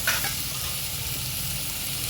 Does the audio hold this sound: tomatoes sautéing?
yes